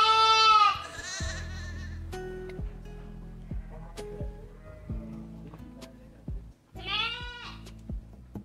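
Lambs on a Sahelian sheep farm give loud, quavering bleats at the start and again near the end, nearby, with scattered thumps and low farm noise in between.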